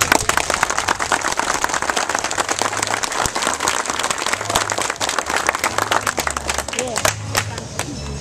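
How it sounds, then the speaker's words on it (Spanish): Dense, sustained applause from an audience at a National Police community event in Santo Domingo Este, loud and continuous throughout with no gaps. "pido un fuerte aplauso para la Jefatura de Santo Domingo Este de la Policía Nacional"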